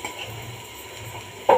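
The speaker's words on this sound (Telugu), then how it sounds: "ఇలా మళ్ళీ ఒకసారి ఫ్రై చేసుకోవాలండి" Spice powder mix of chili, coriander, cumin, fenugreek and mustard powders frying in a pan, a steady soft sizzle and scraping stir, ending with a brief louder clatter of utensil on the pan.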